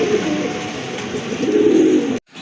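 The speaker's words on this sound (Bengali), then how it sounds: "এই যে দেখেন একজোড়া শাটিন কবুতর" Low, continuous cooing from a pair of satin pigeons rumbles close by for about two seconds, then stops abruptly.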